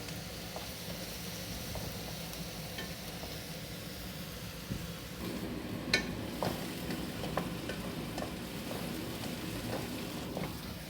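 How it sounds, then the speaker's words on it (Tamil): Onions stirred and sautéed in a pan for a spinach and egg fry, a steady soft sizzle with faint scattered ticks and scrapes of the spatula throughout, fairly quiet and alone. "வெங்காயத்தை நல்லா கிளறி விடணும். வெங்காயம் நல்லா வதங்கட்டும்."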